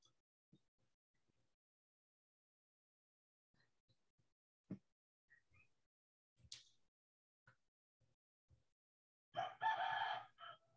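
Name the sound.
chicken clucking and crowing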